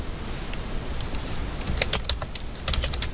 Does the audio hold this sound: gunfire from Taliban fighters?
no